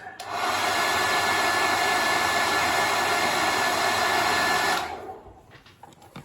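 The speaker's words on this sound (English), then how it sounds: "and then Happy Hobby hairdryer again" A hairdryer drying decals on a painted miniature blows with a steady loud roar for several seconds, then switches off, leaving a quiet room with faint rustling.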